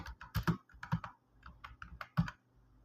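Rapid, uneven keystrokes on a computer keyboard, close and clear, clattering in short bursts with brief pauses and no talk.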